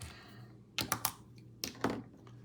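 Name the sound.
tearing open Prizm football blaster box card packs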